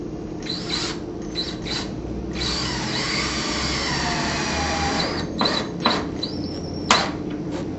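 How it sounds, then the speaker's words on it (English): A power driver sets a trim head screw into a pre-drilled hole, with short whirring bursts and then a longer steady drive that ends in brief high spurts, fairly quiet against low background rumble. "place our trim head screw into the pre-drilled hole"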